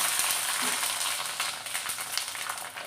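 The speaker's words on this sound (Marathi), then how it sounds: "चला तर दुसरा पापड तळून घेऊया" Semolina papad frying in hot oil makes a loud continuous crackling sizzle with bright popping bubbles close by, and no one speaks.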